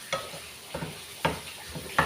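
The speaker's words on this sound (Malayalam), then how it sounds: "ഇപ്പോൾ അതാ സബോളയൊക്കെ വഴണ്ടി വന്നിട്ടുണ്ട്." Onions sauté in a pan for a thoran, with a soft steady sizzle broken by four sharp scrapes of a stirring spoon spaced about half a second apart.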